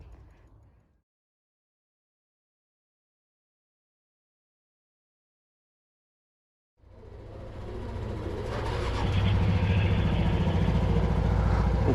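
A Honda Super Cub motorcycle, freshly fitted with chrome rear shocks and new engine oil, is started after a long silence and settles into a steady, close idle rumble that grows slightly louder.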